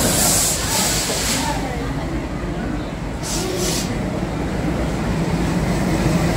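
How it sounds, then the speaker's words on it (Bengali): The Saraighat Express, running from Howrah in West Bengal to New Bongaigaon in Assam, pulls into a station platform with a loud, steady roar and hiss of the moving train close by, while people's voices blend into the noise. "ট্রেন ঢুকতেছে দেখুন"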